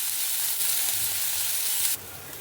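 Ridge gourd peel sizzles and fries in a little oil in a pan, a bright, steady hiss that dips slightly near the end, with no voices.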